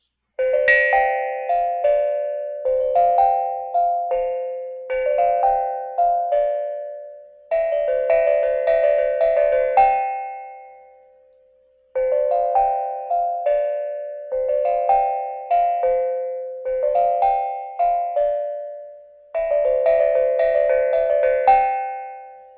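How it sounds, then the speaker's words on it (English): A short tune picked out on a small handheld bell, clear ringing tones in several phrases with brief pauses between them, each note decaying, played alone without talk. "Now that's about the best that I can do on this little bell."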